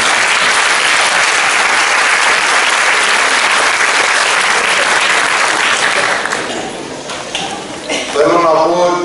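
Sustained applause from an audience at a Greek cantata concert event, loud and dense clapping that tapers off near the end as a voice begins speaking.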